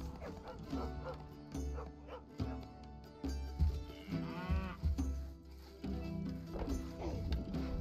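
Dogs barking in the medieval castle-building strategy game Stronghold Definitive Edition, scattered barks over game music and ambience, with someone talking in places.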